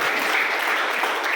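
Audience at an address by a coaching centre director breaks into dense, steady applause, loud and close throughout with no talking over it.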